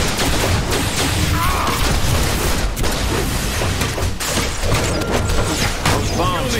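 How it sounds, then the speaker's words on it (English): Anti-personnel bombs going off in the DC Universe Online video game, a dense rapid barrage of loud booming blasts and crashes piling over one another without pause. "Activating anti-personnel bombs"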